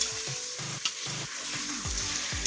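Pork browning in hot oil inside an Instant Pot, with a constant loud sizzle and frying crackle while pieces are stirred and shifted, close up with no voices.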